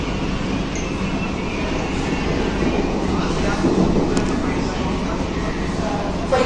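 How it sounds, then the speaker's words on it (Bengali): A New Delhi–Sealdah Rajdhani Express hauled by a WAP7 electric locomotive passes near Dum Dum Junction. It makes a steady, loud rumble of rolling wagons heard from a moving EMU local train. "নিউ দিল্লি শিয়ালদা রাজধানী এক্সপ্রেস ওয়াইপ 7 এর সঙ্গে"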